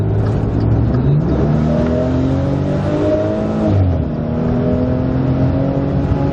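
A Maserati Ghibli's engine revs hard and climbs through rising pitch as it accelerates past another vehicle on a narrow, winding Italian road, loud and close with a brief shift mid-pull.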